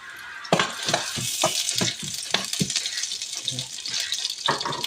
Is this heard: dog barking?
no